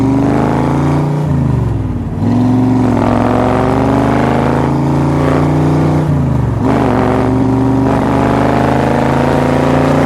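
A Factory Five 1965 Cobra replica with a five-speed gearbox drives along a road, its engine droning loud and close, with pitch dips at gear changes around two and six and a half seconds.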